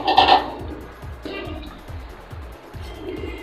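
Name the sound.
pot lid lifted while cooking chicken with elephant foot yam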